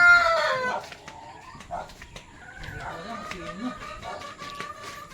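Clucking and squawking from a hen and other farm fowl near the microphone, loud at first and then settling into scattered calls, with someone talking underneath.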